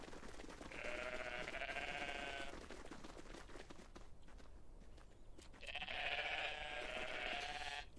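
Sheep bleat in the video game Everything, with two long, loud bleats close by and a quieter stretch of ambient noise between them. No one talks.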